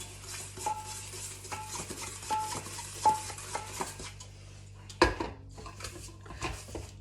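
Cookie dough for New York mini egg cookies is mixed by hand in a bowl, giving soft, irregular stirring and scraping with an occasional utensil clink against the side, quiet and close.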